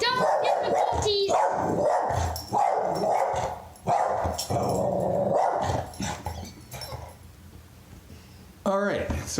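A dog barks repeatedly in short, loud bursts amid ongoing talk during a backyard toy crossbow session, the yaps mixing with voices.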